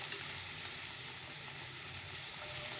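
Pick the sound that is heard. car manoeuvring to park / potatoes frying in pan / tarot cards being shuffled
potatoes frying in pan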